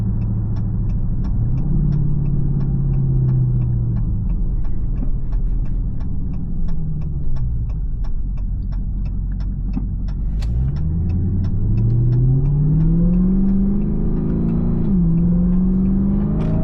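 A 2023 Dodge Charger Hellcat accelerates hard with its tires slipping, a loud continuous engine roar whose pitch climbs, drops and climbs again through the gears, with no talking.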